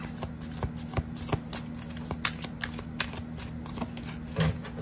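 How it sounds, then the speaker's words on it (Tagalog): Tarot cards are handled and drawn from a deck, with a series of crisp flicks and soft slides repeating unevenly, close and clear. "kumuha pa tayo ng isang baraha"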